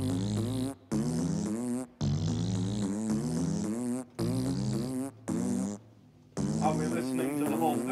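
Sampled fart noises played as a melody on a keyboard, a rhythmic run of loud, buzzy, pitched notes in short phrases broken by brief gaps, close and prominent.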